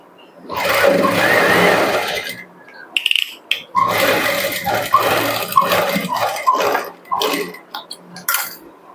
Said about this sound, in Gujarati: પહેલા તો અહીંયા ધાર ઉપર છેડા ઉપર સિલાઈ લગાવી દો